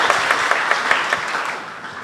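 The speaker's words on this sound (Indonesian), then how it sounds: "Beri tepuk tangan lagi untuk Tuhan Yesus" Dense congregation applause at a Sunday worship service, many hands clapping close and loud with a rhythmic pulse to it, fading slightly toward the end, with no talk.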